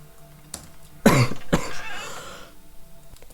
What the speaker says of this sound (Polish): jak ja nienawidzę mieć kaszlu